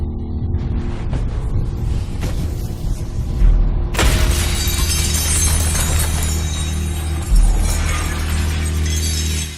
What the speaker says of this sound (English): The movie Insurgent applied this to create some really cool action scenes of Shailene Woodley smashing through glass.